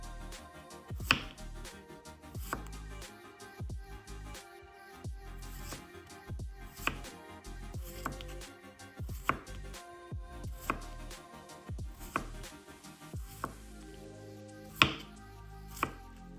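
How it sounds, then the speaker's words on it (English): A knife chops vegetables on a cutting board for a sardine salad with cucumber and tomato, a series of sharp, distinct thuds at an uneven pace, close and fairly loud, with no talking. "So we're just gonna take a knife and just cut them"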